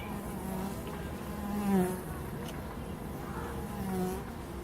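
Steady, dense buzzing of many honeybees close by inside a mini-nuc hive with newly emerging bees, a continuous hum that swells slightly at moments, with no talking.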